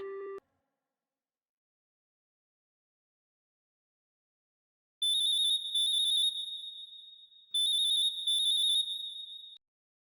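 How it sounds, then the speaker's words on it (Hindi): Telephone ringing on a call comes in two bursts of bright electronic double trills after several seconds of silence, with a short tone at the very start. "यार रिंग जा रही है"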